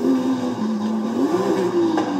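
A car exhaust blares as the engine revs during a wheelie in the racing game Forza Horizon 5, a loud raspy drone that dips and then climbs in pitch, heard close and without talk.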